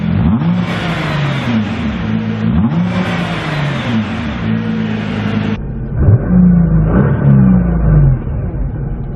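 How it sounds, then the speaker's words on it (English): A 2017 Nissan GT-R engine revs with its exhaust valves closed, several sharp rising and falling revs in succession, loud and close, followed by a couple of more muffled revs, with no talking. "I'm going to give the car a few revs with the valves closed."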